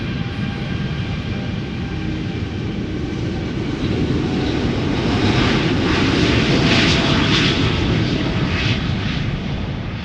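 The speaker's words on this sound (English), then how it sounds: "the Contrail A350 is also coming this way by the looks of it" Contrail Airbus A350 jet airliner approaching at Schiphol, a continuous heavy jet roar that builds gradually and stays loud throughout, with no voices.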